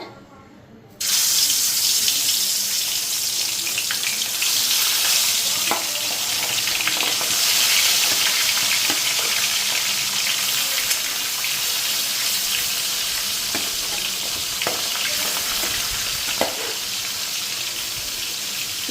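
Salted, turmeric-rubbed fish dropped into hot oil, bursting into a loud, steady sizzle that continues close and unbroken, with occasional pops.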